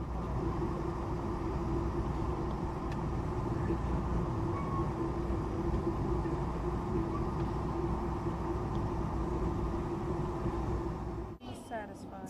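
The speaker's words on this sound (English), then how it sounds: "the California Zephyr passes a freight train waiting on a siding." The California Zephyr passenger train descends from Donner Pass past a freight train waiting on a siding, a continuous loud rumble of wheels and rail clatter from onboard, with a brief clunk near the end.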